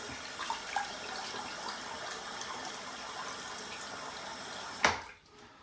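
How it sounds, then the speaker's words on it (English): Running tap water pours steadily as a HeadBlade head razor is rinsed beneath it, a continuous close splashing stream that cuts off abruptly near the end. "let's go ahead, rinse it off here real quick"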